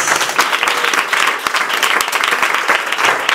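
A church congregation at a Sunday sermon claps steadily and loudly for the full stretch, a dense wash of many hands with no pause.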